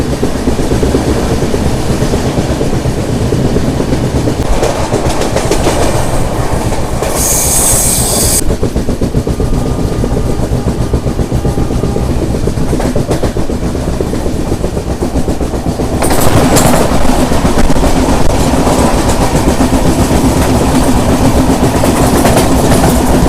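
The Kerala SF Express (train 12625) runs on its tracks near Aluva, a loud, steady rumble of wheels with rhythmic clickety-clack and brief squealing, heard close from aboard with no talking.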